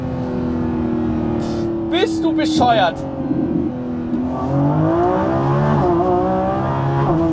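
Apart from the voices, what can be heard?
V12 sports car accelerating hard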